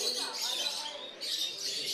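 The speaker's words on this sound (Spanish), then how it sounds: "Más de 800 pájaros inundan con su canto este aula medioambiental en Ávila." Hundreds of canaries, lovebirds, parakeets and exotic cage birds singing at a bird show and competition in an environmental classroom in Ávila, a dense bright wash of overlapping chirps and trills filling the room.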